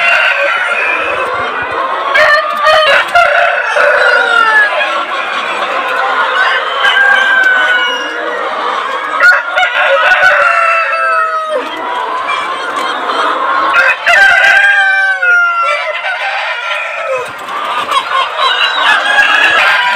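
A large flock of chickens clucks and calls continuously while crowding a drinking nipple line in a poultry shed, a dense, close chorus of overlapping squawks and chirps throughout.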